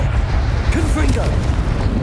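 A deep, booming blast from the Confringo spell in Hogwarts Legacy rumbles loud and close with heavy low-end roar throughout, overlapped by a voice.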